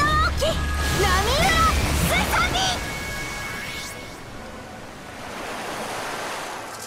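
A crashing surf effect for the Great Wave off Kanagawa attack in the video game Fate/Grand Order rushes in as a broad wash, with a voice and musical tones over it early on before the wave noise carries on alone.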